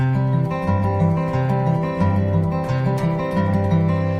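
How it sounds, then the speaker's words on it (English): Fingerpicked acoustic guitar with open bass strings ringing freely under a steady rolling arpeggio, close and full, no voices. "Now you can actually play this open without muting the basses."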